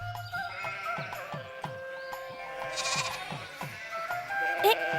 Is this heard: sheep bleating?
yes